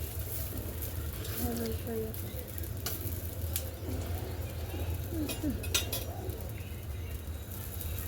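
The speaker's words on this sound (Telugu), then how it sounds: "ఉల్లిపాయ రుద్దటం వల్ల దోశలు బాగా వస్తున్నాయి" Dosa batter cooks on a hot griddle that was rubbed with onion, giving a continuous soft sizzle with occasional light utensil clinks and faint voices in the background.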